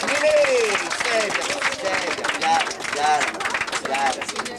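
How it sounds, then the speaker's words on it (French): An audience at a flea circus show claps in a loud, steady burst of applause, with a presenter's voice speaking excitedly over the crowd's clapping. "On peut l'applaudir mesdames et messieurs, elle est extraordinaire"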